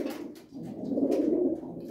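A pigeon coos close by, giving a single soft, low, rolling coo that swells after a brief pause, with no voices present.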